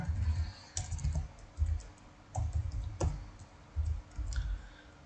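Keys clatter on a computer keyboard while a vehicle's registration is entered into an online office car-booking system, coming in short bursts of soft clicks separated by brief pauses, close and fairly quiet.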